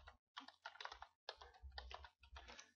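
Someone types a password on a computer keyboard: quick, close-up clicky keystrokes in two short bursts separated by a brief pause, faint and alone.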